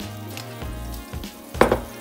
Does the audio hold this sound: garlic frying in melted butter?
yes